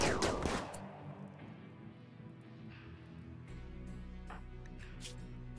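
Turrets fire in the RimWorld video game, opening with a loud burst of rapid shots that fades into scattered, fainter gunfire under a low steady hum.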